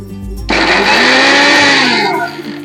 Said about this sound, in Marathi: असं बारीक हे करून बंद चालू करून आपण बारीक करून घ्यायचं